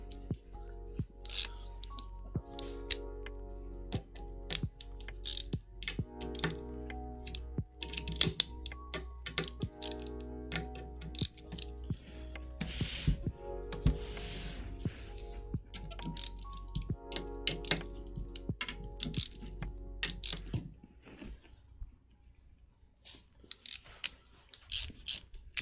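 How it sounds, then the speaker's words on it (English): Loosening the motor mounts on a SecKit SK-CUBE steel-frame 3D printer kit gives close, irregular small metallic clicks and taps, with a steady low hum underneath and no talking. "I gotta loosen these motors up."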